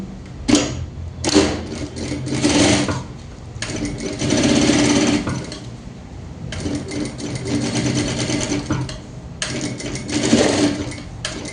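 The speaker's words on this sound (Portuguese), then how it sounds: "passa uma costura desse lado, a gente vai passar do outro lado" A sewing machine stitches seams on a double-sided fabric bag in rapid whirring bursts of needle clatter, starting and stopping several times with short pauses between runs, close and loud.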